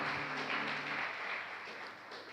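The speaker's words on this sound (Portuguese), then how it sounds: "Vamos aplaudir o Senhor." A church congregation applauding together, a steady dense wash of many hands clapping that carries on throughout without pause.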